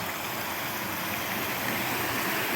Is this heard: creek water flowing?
yes